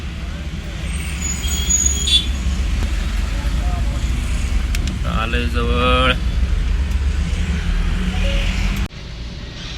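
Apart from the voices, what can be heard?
road traffic with cars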